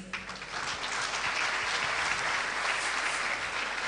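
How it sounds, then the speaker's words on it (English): A crowd at an outdoor book launch at Victoria Gardens in Blantyre, Malawi, applauds steadily, dense and sustained clapping filling the space throughout without a break. "A round of applause"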